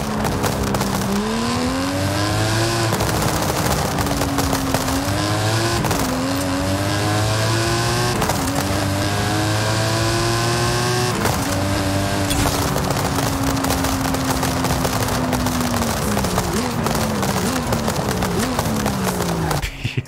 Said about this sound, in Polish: Jaki dźwięk w ogóle tej V8-ki